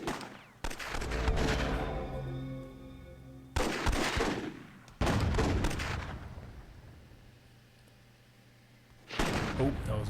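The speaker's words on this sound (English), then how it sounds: "Oh, that was a great cannon shot" A cannon fires in the Myth II: Soulblighter strategy game, sharp booming blasts with rumbling decay, several bursts spread across the stretch amid other game noise.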